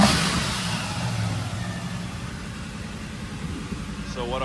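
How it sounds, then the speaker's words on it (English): Engine running steadily after a Crossfire to single TBI swap, a continuous low mid-range drone with a faint belt squeal, loudest at the start and fading slightly, with a voice briefly heard near the end. "Got a little belt squeal, but yeah, I mean, it runs absolutely beautiful."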